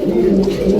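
A pigeon, kept among pedigree fancy pigeons, gives a short close cooing call, a low throaty burble lasting under a second.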